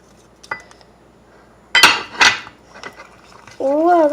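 A utensil stirring and scraping through shampoo and toothpaste slime in a bowl, a few clinks at first, then two louder bursts of wet scraping, and a steady squishing churn toward the end.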